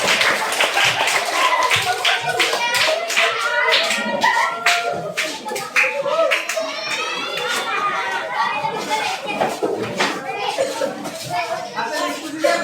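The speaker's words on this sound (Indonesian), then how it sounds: "Ya, beri tepuk tangan." An audience in a school discussion session claps hands together, a sustained burst of quick, uneven, close claps running the whole time, with children's voices and chatter mixed in underneath.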